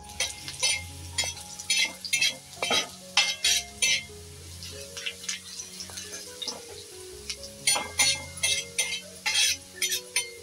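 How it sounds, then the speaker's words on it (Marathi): Chopped garlic and green chili fry in oil in a pan, a soft steady sizzle broken by repeated sharp scrapes and clinks of a spatula stirring against the metal, close and without talk. "आधी लसूण हे भाजून घ्यायचं थोडंसं, नंतर कांदा टाकायचा आहे."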